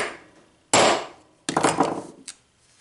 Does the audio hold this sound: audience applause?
no